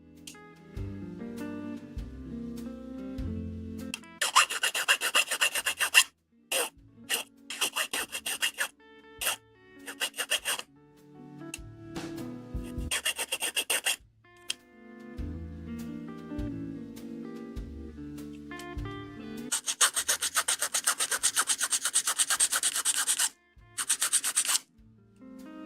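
Filing a plastic part of a vintage 1/144 Bandai Gundam model kit: bursts of fast, close scratchy rasping strokes alternate with pauses and low knocking handling sounds, with two longer filing spells near the middle and the end.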